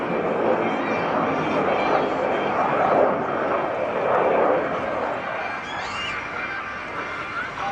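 F/A-18F Super Hornet jet at an airshow demonstration, flying inverted with throttles at idle, giving a steady, loud, broad roar that eases slightly toward the end, with crowd noise and an announcer's voice mixed in.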